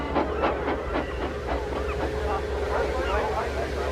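A train rolls along with a regular clickety-clack rhythm of wheel beats over a low rumbling bed, moderately distant and fairly quiet, on a snowy, frosty early-morning run hauling vans of fish crates.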